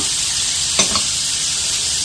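Tomatoes and brinjal sautéing in a pan over a low flame give a steady, close hiss of sizzling, with one brief stirring scrape near the middle and no talking.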